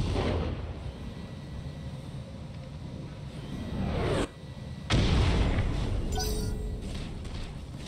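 Weapons firing down range in the BattleTech mech game, a dense, continuous roar of heavy battle fire with sharper booming surges near the middle and end, loud and close throughout with no voice on top.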